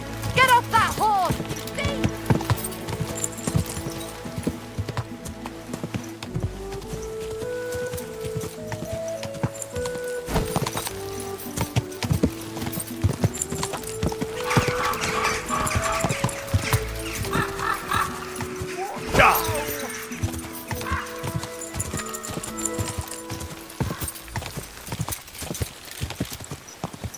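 Horse hooves clip-clopping in Kingdom Come Deliverance 2, a steady rhythmic clatter running throughout alongside game music and effects, with occasional louder accents, a possible whinny, and some voices.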